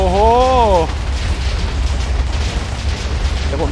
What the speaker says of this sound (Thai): อันนี้คือเราระเบิดข้างล่างนะ